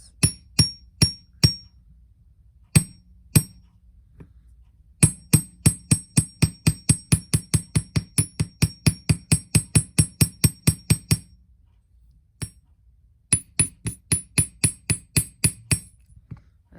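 Steady strokes of a hammer flatten the other side of a wire bangle. Crisp, close metallic taps fall in long even bursts, broken by a few pauses and isolated single hits.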